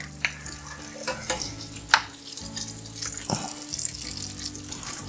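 Large pasta shells being stirred in a pot for bacon mac and cheese, with scraping and watery sloshing in a few sharp bursts against a steady low hum, close by and with no talk.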